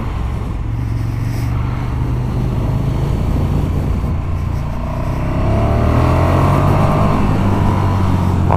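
A 2017 KTM 1290 Super Duke R motorcycle accelerating on the road, a loud continuous engine drone that rises in pitch as it pulls harder, with wind rush over it.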